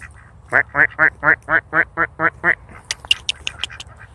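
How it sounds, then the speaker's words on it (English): A duck quacks loudly nine times in a steady rhythm, followed by quieter, quicker chatter and peeps from other birds nearby. "Hello, ducks."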